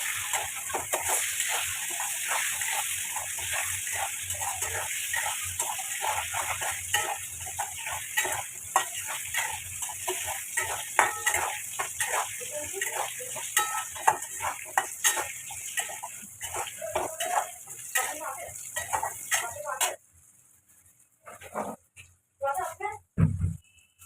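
Steady sizzling of potatoes frying in a pan, with occasional stirring scrapes and utensil clinks, continuous until a quieter stretch near the end.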